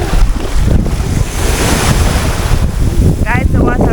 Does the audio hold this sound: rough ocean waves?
yes